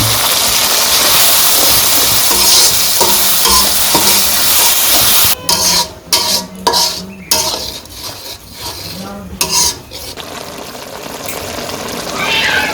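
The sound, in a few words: ground spice paste frying with onions in pan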